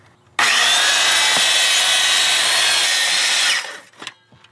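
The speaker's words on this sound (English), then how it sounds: "So now I've reset the depth of my saw." A circular saw cuts through house siding in one loud, steady burst of about three seconds, starting abruptly, holding its whine, then spinning down and leaving a few faint knocks and clatters.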